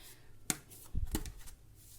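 Large tarot cards are shuffled by hand, giving a faint, soft riffle with a brief snap and a short flurry of papery flutters, close and quiet with no talking.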